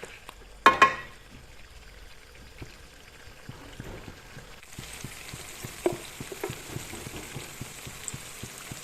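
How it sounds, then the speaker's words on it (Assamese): Ginger-garlic paste fries in a pan for a duck curry with pumpkin and potato, opening with a sharp clatter, then a soft crackling sizzle that grows louder and denser, with scattered pops and stirring scrapes. "ভাজি থাকিম প্ৰায় 10-15 মিনিট সময়"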